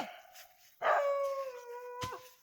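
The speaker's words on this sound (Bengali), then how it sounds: "তাদের রাখাল কুকুরও আছে দেখুন।" A shepherd dog in a hill village in the Sreemangal tea country howls close by, one long rising, wavering howl followed by a shorter cry, with brief quiet gaps between them.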